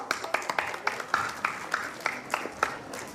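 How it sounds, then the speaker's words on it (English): Audience at a school annual function claps in a steady, moderately loud round of applause, with individual claps standing out in a regular rhythm. "So let's call our friends with a huge round of applause."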